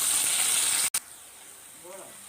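Sliced onions with curry leaves sauté in a pan with a bright, steady sizzle that briefly cuts out, then returns more softly with a faint voice near the end.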